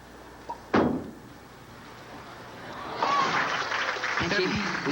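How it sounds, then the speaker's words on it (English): A sharp thud sounds early, then a burst of clapping rises and carries on at a bowling alley during a 1988 women's professional bowling tournament after a spare, with faint voices mixed in. "Lisa applauds herself that time for making the spare"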